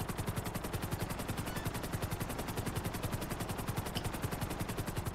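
Video game helicopter with fast, evenly pulsing rotor chops, a steady loud rhythmic thumping that runs unbroken and alone for several seconds.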